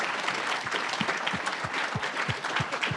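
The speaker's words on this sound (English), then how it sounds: "Let's give our keynote a wonderful round of applause." A large audience applauds a keynote speaker at an awards event honoring Dr. Martin Luther King Jr. The clapping is steady and dense, with a rhythmic low thump running beneath the broad wash of hands.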